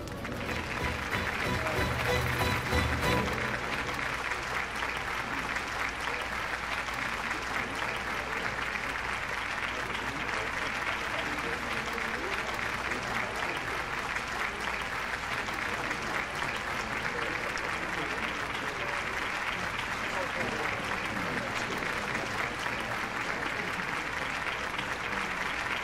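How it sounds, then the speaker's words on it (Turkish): Sustained, dense applause from a large audience at a televised award presentation fills the whole stretch evenly, a loud continuous wash of clapping with a brief louder burst near the start. "Bu güzel, güçlü alkışlarınızı bizden çok Asya Hanım hak ediyor."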